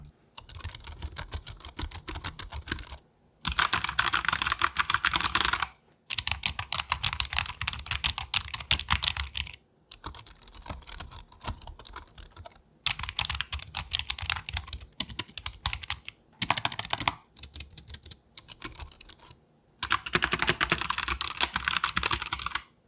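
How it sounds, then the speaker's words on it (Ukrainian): Soft, rapid typing on a low-profile keyboard, steady clatter in bursts with brief pauses between, close and quiet, no talking. "максимально приємне тихе набирання тексту"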